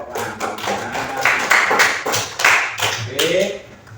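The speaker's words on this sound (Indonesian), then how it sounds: "Tepuk tangannya mana?" An audience in a school classroom claps in short uneven rounds, close and fairly loud, mixed with voices throughout.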